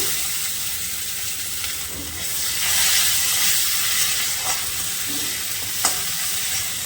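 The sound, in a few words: frying five-spice and bay leaf tempering in oil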